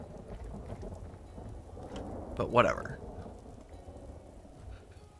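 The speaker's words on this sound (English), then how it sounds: "maybe not in the middle of a thunderstorm" Steady rain patter with a brief thunder rumble swelling in the middle, from a thunderstorm in the video game Vintage Story, with a voice speaking briefly over it.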